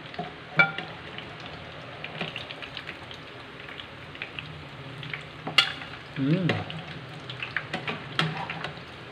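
Breaded milkfish (bangus) deep-frying in hot oil gives a steady crackling sizzle, broken by sharp pops and a brief louder burst of bubbling near the middle, with no talking.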